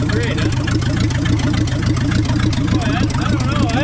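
A stepside pickup truck's engine idles steadily with an even low rumble that runs throughout, with a voice talking over it.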